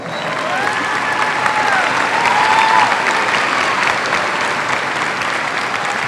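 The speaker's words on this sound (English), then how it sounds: "Let's give our top scholars a traditional Tiger round of applause" Sustained applause from a large crowd at a 2016 high school graduation ceremony, dense even clapping with faint cheers and whistles rising over it midway.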